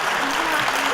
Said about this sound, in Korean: 우리 어린이분들을 위해서 큰 박수 부탁드리겠습니다